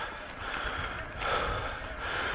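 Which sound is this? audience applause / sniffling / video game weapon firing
sniffling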